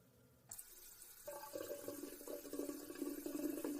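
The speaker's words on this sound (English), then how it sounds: "Turning a tap on, it is integral to our day-to-day life." Water runs steadily from a turned-on household tap, starting with a sudden gush and then settling into a continuous splashing stream that grows slightly fuller, close and alone.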